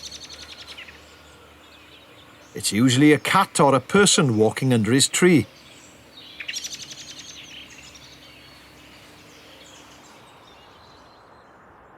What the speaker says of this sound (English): We've all heard this one, an unhappy blackbird.